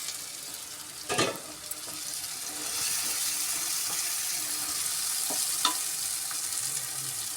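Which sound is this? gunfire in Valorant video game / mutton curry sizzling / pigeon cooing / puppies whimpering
mutton curry sizzling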